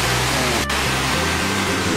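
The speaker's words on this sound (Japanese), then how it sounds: "こんな山奥に滝があるんだ。" A mountain waterfall deep in the hills of Izu gives a steady, even broadband rush of falling water. It runs unbroken for the whole span, with one brief dip partway through.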